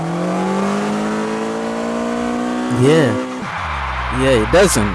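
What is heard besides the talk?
car engine revving in video game Car Parking Multiplayer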